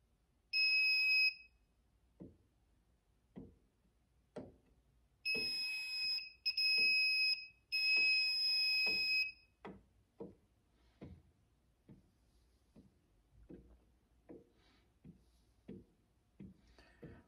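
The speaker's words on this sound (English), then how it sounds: "the one that beeps is the one that is the circuit breaker you are looking for" A Harbor Freight HTP-6 circuit breaker finder emits high electronic beeps in several short bursts, separated by sharp clicks, followed by a long run of evenly spaced ticks in a quiet room.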